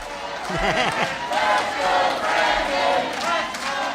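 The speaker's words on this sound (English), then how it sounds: "And the crowd's loving him." Crowd in the film Dog Day Afternoon chanting and shouting outside a bank, a rowdy mass of voices rising in rhythmic waves of cheering, with scattered individual yells on top.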